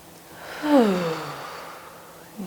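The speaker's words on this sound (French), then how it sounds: "Une respiration." A single audible exhale during a gentle yoga session, a soft, drawn-out breath with a slight voiced tone, close to the microphone and otherwise quiet.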